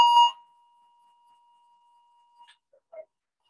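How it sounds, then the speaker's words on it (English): A building fire alarm sounds during a false alarm, a short, loud electronic beep at the start that leaves a thin lingering tone, followed by faint, brief electronic chirps in near silence. "Attention residents, we have investigated the alarm, and it is a false alarm."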